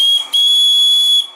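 A small, shrill steam whistle on an Anton T200 live steam engine gives two sharp high-pitched blasts, a brief one then a longer steady one of about a second, loud and close with a faint hiss as it fades.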